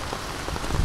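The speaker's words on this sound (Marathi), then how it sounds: "डेंजर पाऊस आला एकदम डेंजर" Heavy monsoon rain pours down during a sudden Maharashtra thunderstorm, making a brief, dense hiss of drops hitting the ground nearby, with a low rumble rising at the very end.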